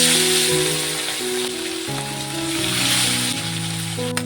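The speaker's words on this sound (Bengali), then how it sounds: "বাকি মাছটাকেও একইভাবে ভেজে নেব" The rest of the morola fish sizzles in hot frying oil, a continuous crackling hiss heard alongside background music for a few seconds.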